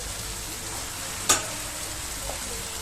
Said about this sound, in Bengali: আমি মাশরুমগুলো ঢেলে দেবো, ঢেলে দেওয়ার পর মিক্স করব।